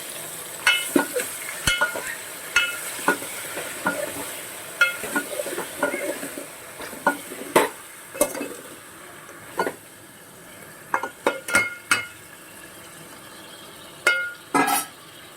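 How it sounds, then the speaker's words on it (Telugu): A spoon stirs tomatoes, okra and salt in a sambar pot, making repeated sharp metallic clinks and scrapes against the pot in irregular bursts over a faint sizzle. "మంచిగా కలుపుకోవాలి ఇది."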